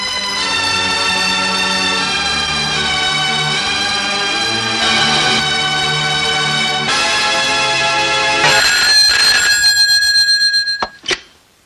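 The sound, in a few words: telephone ringing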